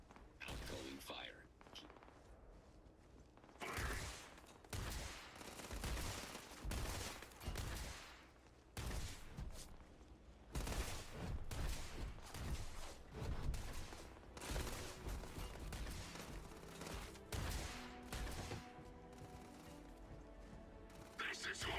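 Gunfire in a video game comes as dense bursts and volleys, sometimes rapid like a machine gun, with thuds and mechanical clanks. Whispered voices are heard at times among the shots.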